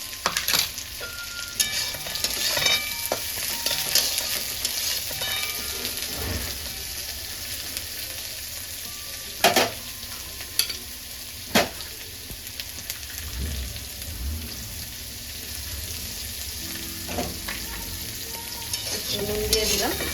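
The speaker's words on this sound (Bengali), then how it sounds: "আর একটু বেশি করে পেঁয়াজ কুচু দিয়ে দিচ্ছি" Green chilli and plenty of chopped onion frying in oil, a soft continuous sizzle with occasional sharp spatula scrapes and knocks against the pan, fairly quiet and close, with no talking.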